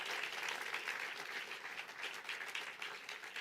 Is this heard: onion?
no